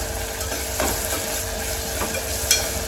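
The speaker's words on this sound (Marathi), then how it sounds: "आपली आला लसणाची पेस्ट सर्व व्यवस्थित परतवून घेते" Ginger garlic paste sautés in a pan with a bay leaf, a dense, steady sizzle close by with soft scraping stir strokes running through it.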